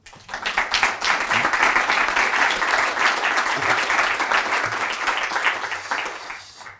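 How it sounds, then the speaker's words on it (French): Audience at a French biodiversity conference on trees and forests claps steadily for about seven seconds, a dense, sustained round of applause with no talking over it. "Je souhaite donc qu'on les félicite et qu'on les applaudisse."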